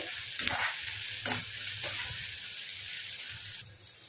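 Onions sizzling in a pan for a village-style goat tripe curry, a steady close frying hiss with a few stirring scrapes, no talk.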